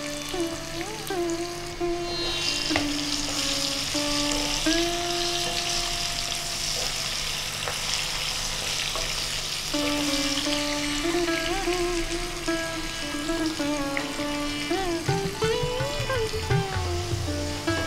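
Potato pieces browning in hot oil for a fish curry, a steady close sizzle running the whole time beneath a tonal background melody.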